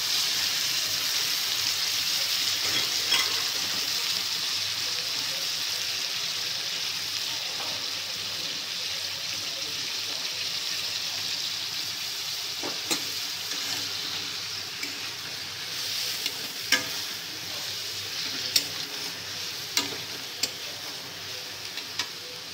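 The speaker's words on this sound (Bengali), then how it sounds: "এবারে আলুটাকেও খুব ভালো করে ভেজে নেব" Thin-cut potato strips tossed into a pan with tomato fry with a steady, close hiss, with occasional clicks of stirring toward the end.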